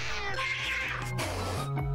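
A cat meows in the video game Citizens of Earth, a clear, close cry set over steady game music.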